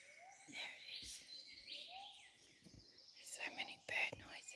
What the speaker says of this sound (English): Hear that catbird?